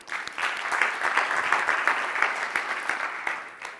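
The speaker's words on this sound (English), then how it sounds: "Big round of applause for you guys." Keynote audience at a chatbot summit in Tel Aviv applauding, a dense steady wash of clapping that swells quickly and holds for a few seconds before tapering off, with no voices over it.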